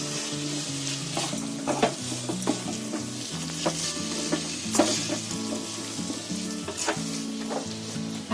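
A spoon stirs an oats and honey mixture in a pan, with scraping strokes and occasional clinks against the metal over a soft continuous sizzle, close and steady.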